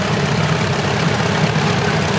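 A 1967 John Deere 5020 vintage tractor at a parade, its heavy diesel engine a loud steady low drone without pause, close by.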